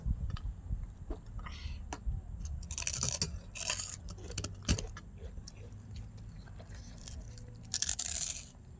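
Crispy pork rind (khaep mu) crunched in the mouth during a khao soi meal, with a few sharp, fairly close bites in separate bursts and quieter chewing between them.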